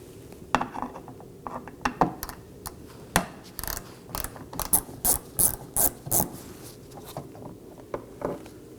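Hand ratchet working a T15 screw on the inner handle of a Chevrolet Equinox liftgate, close, crisp bursts of rapid clicking in short repeated strokes with brief pauses between them.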